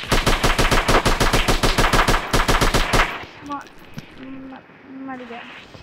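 Rapid gunfire in the online shooter Online Strike: about three seconds of loud automatic bursts in a fast, even rhythm, then it cuts out, leaving a player talking over quieter game sounds.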